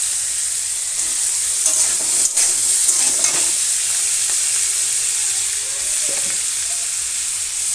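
Potatoes sizzling in a frying pan, a steady loud hiss of hot oil with occasional scraping stirs and small pops, no voices.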